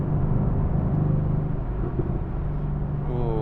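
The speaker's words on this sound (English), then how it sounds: "got the Mercedes pops and bangs" Mercedes-AMG GT R exhaust pops and bangs crackle over a steady engine drone and road rumble, with sharp bursts as the car shifts gears quickly.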